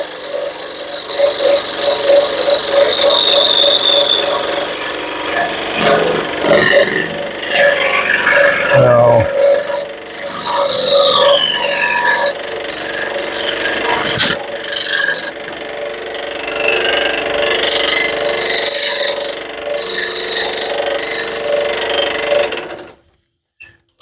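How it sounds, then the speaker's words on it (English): A scroll saw cuts through wood to shape a jack-o'-lantern, giving a steady, close buzzing drone with fast reciprocating texture that runs almost unbroken for about twenty seconds before stopping abruptly. "scroll saw gives me a cleaner cut when I'm doing this"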